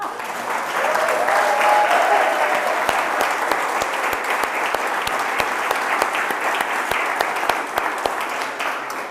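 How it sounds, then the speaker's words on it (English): A room of listeners gives Professor John Eichert a warm round of applause at a water conference, steady and fairly loud dense clapping that carries on unbroken for several seconds. "Let's have another round of applause for Professor John Eichert."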